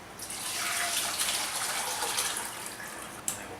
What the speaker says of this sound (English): I will pour my remaining sauce into it.